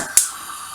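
Gas stove burner switched on and lit in a home kitchen, a single sharp click of the igniter followed by a brief soft hiss.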